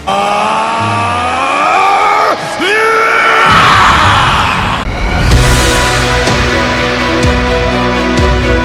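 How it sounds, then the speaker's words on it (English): Vegeta, a Dragon Ball anime character, screams loud and long as he transforms into Super Saiyan Blue Evolution. A roaring, whooshing power-up surge and dense crackling effects build up around the yell. "As Vegeta went and he screamed."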